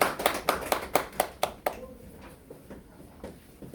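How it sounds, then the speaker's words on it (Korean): A few sharp hand claps ring out in a quick rhythmic burst at a school admissions briefing, fading within about two seconds into quiet room tone. "박수로 환영해 주시죠"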